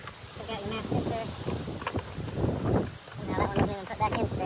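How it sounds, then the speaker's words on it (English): Low, buffeting wind noise rumbles against the microphone, rising and falling in gusts while someone talks over it. "it's real windy out here"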